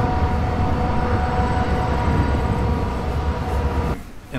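A heavy freight train of loaded ore cars rumbles past up close, a steady loud roar of rolling cars and wheels that drops off suddenly near the end.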